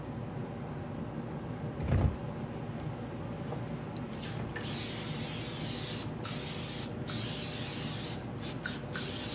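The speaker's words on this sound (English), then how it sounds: "And I'm gonna spray my casserole dish." Cooking spray hisses steadily onto a casserole dish in a long continuous spray broken by a few short gaps, heard close and alone after a brief knock.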